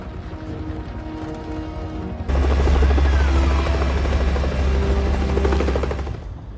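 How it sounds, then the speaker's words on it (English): A helicopter comes in to land in a scene from Captain America: Civil War, first as a steady rotor drone. Then a heavy low thumping roar swells in, stays loud, and fades near the end. "You are cleared for landing, Mr. Stark."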